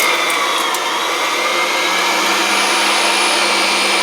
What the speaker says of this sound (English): Grinding up some bacon. Some more of that pork.